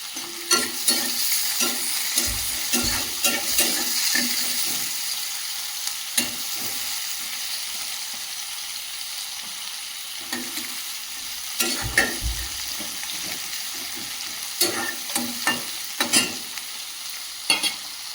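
Panch phoron spices crackle and sizzle in hot oil, a steady close frying hiss broken by repeated scraping and clattering as a spatula stirs the pan.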